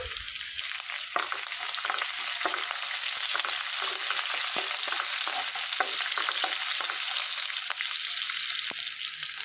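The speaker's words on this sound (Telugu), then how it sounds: "సన్నగా కట్ చేసి పెట్టుకున్న పచ్చిమిర్చి వేసుకొని వేయించుకోవాలి" Dried red chillies and thinly sliced green chillies frying in hot oil for a snake gourd curry, a steady close sizzle with crackling pops and occasional stirring scrapes throughout, no voices.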